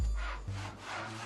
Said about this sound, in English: Sawing a log.